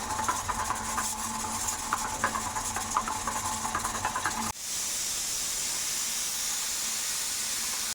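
A pressure cooker of sweet potatoes on a gas stove gives a loud, steady hiss of escaping steam, with a fluttering whistle in the first half and then an even, rushing jet of steam.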